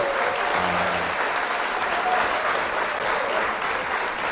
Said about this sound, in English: Clap it up for her, bro.